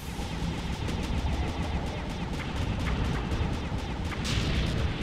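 Rapid repeated gunfire from a turret in the video game Sly 2 crackles in a fast regular rhythm, sustained over background game noise and occasional heavier booms.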